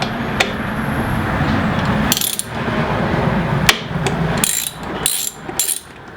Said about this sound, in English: Okay, a little extension, ratchet, and then we take it off on this side